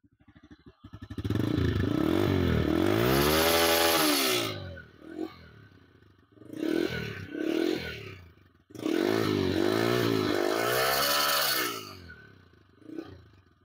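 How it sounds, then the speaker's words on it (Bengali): A TVS Raider 125 motorcycle engine running, starting from idle and revved in several long loud bursts with falling and rising pitch, separated by quieter idling, heard close with no talk. "আমি এখন আপনাদের বাইকটি সাউন্ডটা শোনাবো।"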